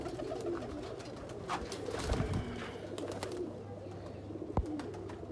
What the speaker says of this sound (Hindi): ये ऊपर एक स्लेटा कबूतर है, ये जीरी मादा है